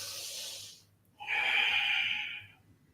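Breathing during a live all-levels yoga class: a long audible exhale, a brief pause, then a strong, close inhale or breath through the nose, with no talk over it.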